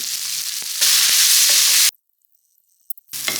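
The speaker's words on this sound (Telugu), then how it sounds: "ముందుగా కట్ చేసి పెట్టుకున్న ఈ దొండకాయ పీసెస్లన్నీ వేగించుకుందాం." Ivy gourd (donda) pieces sizzling in a pan with salt, a bright steady hiss that swells louder, cuts to near silence for over a second, then returns with a few stirring clicks, no talk.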